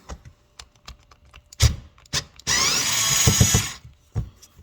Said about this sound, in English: So first order is to remove all of these little screws.